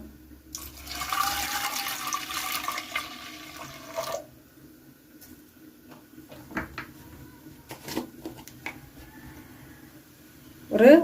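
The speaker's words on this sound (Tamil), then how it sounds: "இப்போ ஒரு கப்பு தண்ணி சேர்த்துடலாம்" Water pours steadily into a cooking pot for a few seconds while making a vegetable kootu curry, then stops, followed by scattered clinks and knocks of kitchenware and a sharp clatter at the end.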